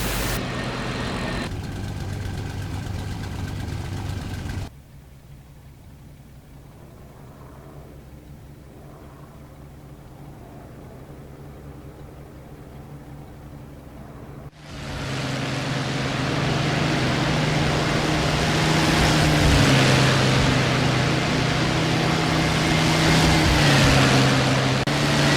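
A military jet engine spools up for takeoff in a French audio drama, a steady low idle drone swelling after a pause into a loud, sustained broadband roar.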